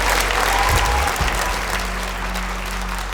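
A talent show gala audience applauds its finalists with a dense, steady roar of clapping that fills the hall and slowly eases off toward the end, with a voice faintly underneath.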